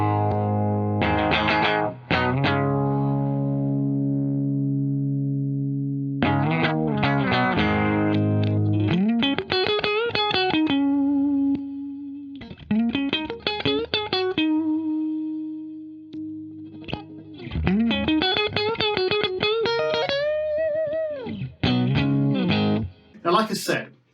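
Electric guitar played through a Taurus Amplification Servo 2 pedal, with driven, effected chords and bent single-note lines in bursts, separated by short pauses and sustained ringing notes.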